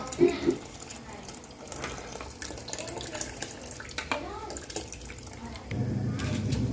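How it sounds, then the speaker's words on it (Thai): Tamarind water pours steadily into a pot of seasoned broth for Thai lotus stem curry, a continuous close splashing stream under background kitchen noise that grows louder toward the end. "พอเริ่มจะเดือดเราก็จะใส่น้ำขาวลงไปครับ"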